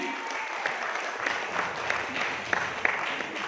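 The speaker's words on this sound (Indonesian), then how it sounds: "Tepuk tangan dulu dong buat Bapak Ibu semuanya." An audience at a product knowledge seminar claps together, a steady moderate round of applause with a few sharper individual claps standing out, with faint voices underneath.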